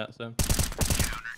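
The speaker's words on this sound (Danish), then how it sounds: "Der er flere skud." Rapid gunfire in a Counter-Strike match bursts in loud and close after a short spoken word, a dense run of shots lasting about a second with clipped, repeating cracks.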